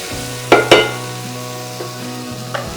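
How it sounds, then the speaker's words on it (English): Nine kinds of vegetables with walnuts and raisins stirred in a frying pan for navratan korma, two sharp spatula knocks followed by fainter scrapes over a gentle sizzle and a steady background hum. "Just give a good stir."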